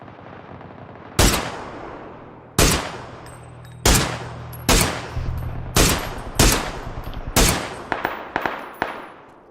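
Gunfire in PUBG: about nine loud, sharp single shots, spaced irregularly and each followed by a decaying echo, standing alone with no talk.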